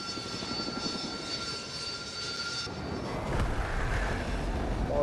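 A jet aircraft roars in the Battlefield 2042 video game, a sustained engine drone with a whining tone that swells and grows louder toward the end.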